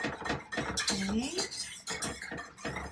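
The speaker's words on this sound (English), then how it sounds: "I feel like this is whisked. It is whisked well." An elderberry gummy mixture is whisked in a bowl with quick metallic clinks and scrapes of utensil on dish, while a voice sounds briefly over it.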